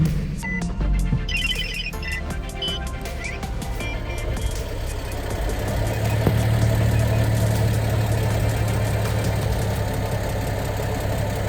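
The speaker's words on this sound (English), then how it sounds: "I'll show you guys what I'm talking about when I say the dual mass clutch is loud" A Nissan 370Z idles with a loud, steady mechanical rattle from its dual mass clutch, a continuous metallic clatter over the engine drone, close and unbroken with no talk.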